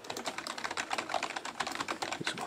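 Typing on a basic Red Dragon gaming keyboard with plasticky keys, a quick, busy patter of light clicky keystrokes, close and clear with no talk.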